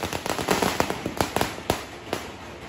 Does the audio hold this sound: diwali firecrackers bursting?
yes